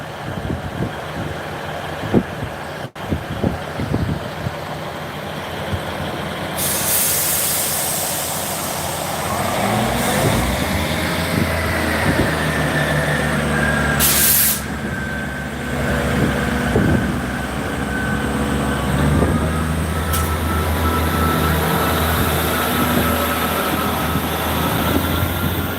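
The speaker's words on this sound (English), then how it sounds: "there's a bit of a delay, as I'm sure you can tell, between the announcement and the actual train arriving at the station" A two-carriage train pulls into a station, its rumbling engine and wheels building to a steady, fairly loud drone with a brief hiss of brakes and a faint whistle-like tone, heard without speech.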